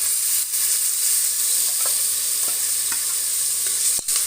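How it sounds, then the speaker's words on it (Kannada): Ginger, garlic and onion paste fries in hot oil with a steady, close sizzle, broken by a few soft stirring scrapes and one sharp utensil tap near the end. "ಇದು ಸ್ವಲ್ಪ ಹಸಿ ವಾಸನೆ ಹೋಗೋ ತನಕ ಫ್ರೈ ಮಾಡ್ಕೊಳ್ಳೋಣ"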